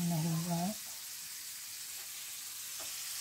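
Sweet potato (kamote) fries frying in hot oil, a steady soft sizzle that follows a short burst of talk, with a few faint pops and stirs.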